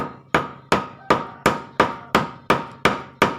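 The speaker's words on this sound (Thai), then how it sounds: "แล้วเราก็ตอกอีกเอียงนิดนึง" A hammer drives a chisel into wood to cut a mortise, with nine sharp, evenly spaced blows ringing close and loud, each one fading quickly before the next.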